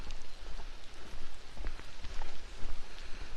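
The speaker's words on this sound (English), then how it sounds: "it is really raining. I don't know if the camera can pick up how heavily it's raining." Heavy rain chucking it down, a dense, continuous patter of drops drumming on surfaces nearby, fairly loud and unbroken, with no voices.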